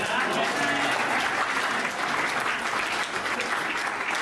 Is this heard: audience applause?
yes